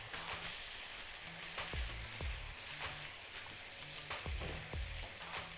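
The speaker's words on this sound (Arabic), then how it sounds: "احنا بنعصج اللحمه المفرومه اللي هنحشيها في." Minced meat sautéing in butter in a pan for stuffed artichokes, giving a steady close sizzle with a few sharp low knocks of stirring or utensil taps and no talking.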